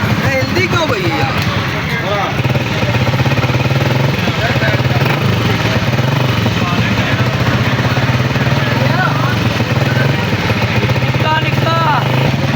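A Honda CG 125 motorcycle with a fault producing alarming noises runs close by, its engine idling with a steady low throb and rattling, knocking mechanical chatter throughout, while someone talks over it.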